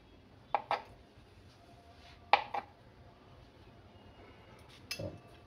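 Paneer and vegetables chopped on a board for chilli paneer: a few sharp, quiet knife taps in small pairs, spaced apart, over a low, steady room hum.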